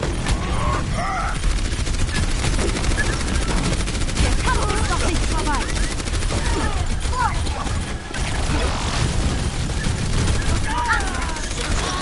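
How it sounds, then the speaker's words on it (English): Weapon gunfire in the video game Overwatch keeps up as a dense, continuous clatter of rapid shots and impacts throughout a busy team fight, with a constant loud wash of game noise and overlapping voices. "Firing weapon."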